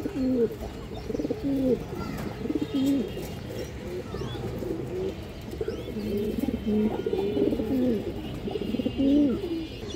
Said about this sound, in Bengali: সবগুলো কবুতর দর্শক এইভাবে ডাকে